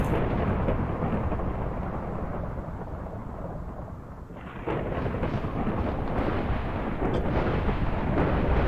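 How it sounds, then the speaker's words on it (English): Thunder from a lightning strike in Minecraft, a loud, sustained rolling rumble that dips slightly, then surges again with a fresh crack partway through and keeps roaring, with no voices. "the lightning is striking an incorrect chunk"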